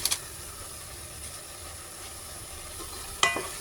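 Vegetables for chicken giniling sizzling in a pan, a soft, steady frying hiss with brief sharp clatters at the start and again near the end, faint and close.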